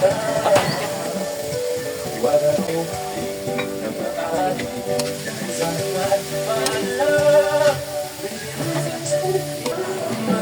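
Bitter gourd (ampalaya) sautéing with onion and tomato in a pan, a steady sizzle with stirring scrapes and clinks throughout, close and clear.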